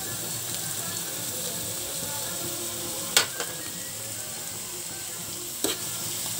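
Tomato and capsicum frying together in a pan, a steady dense sizzle throughout with two sharp clicks of a utensil against the pan partway through; no talk.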